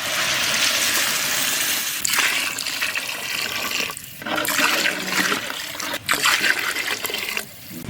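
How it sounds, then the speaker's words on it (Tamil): Six litres of water splash and gush steadily into a pot for two kilos of rava kichdi in a village outdoor kitchen, with brief pauses between pours. "2 கிலோ ரவாவுக்கு 6 லிட்டர் தண்ணி ஊற்றணும்."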